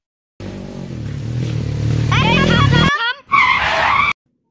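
A motorbike carrying two riders brakes hard to a stop on a road, giving a loud, sustained skidding squeal that rises, breaks off briefly, then returns before cutting out.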